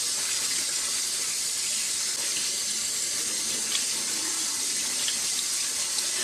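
Cold tap water runs steadily over rice in a fine mesh strainer as it is rinsed, a constant close splashing hiss with no voices.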